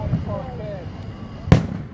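Fireworks at an outdoor show with a crowd and a dog nearby: one sharp, loud burst stands out near the end, with fainter pops and crackle under people talking.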